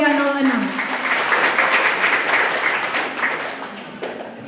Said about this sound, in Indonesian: Kita berikan aplaus yang meriah kepada peserta dengan nomor undian